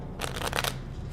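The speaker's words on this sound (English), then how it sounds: "Do you know how to shuffle?" A deck of playing cards is shuffled in a few quick riffling bursts, close and fairly quiet, with a steady low hum underneath and no talking.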